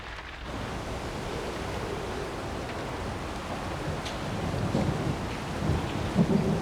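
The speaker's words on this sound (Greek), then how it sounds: "Η νύχτα κυλά και η βροχή συνεχίζει." Heavy night rain pours at Mount Athos, a constant broad hiss that swells slightly toward the end, with faint low rumbles under it and no speech.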